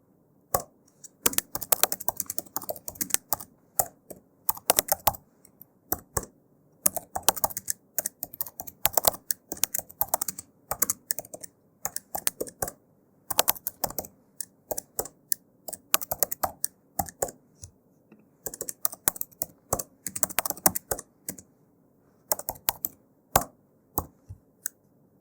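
Code being typed on a computer keyboard for a React Redux component, with close, crisp key clicks in rapid bursts separated by short pauses, continuing steadily throughout with no speech.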